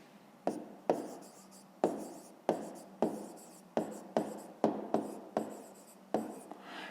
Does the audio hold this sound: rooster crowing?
no